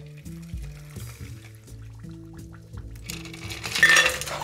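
Crushed ice clinking and rattling into a cocktail glass for a Jade Idol cocktail, a close run of small chinks and taps that builds to a brighter pouring rush at the end.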